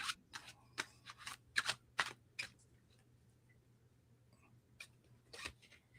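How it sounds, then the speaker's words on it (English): A deck of tarot cards is shuffled close to the microphone in a quiet room, giving a burst of quick riffling snaps, then a lull and a few more soft flicks near the end. "gotta shuffle these."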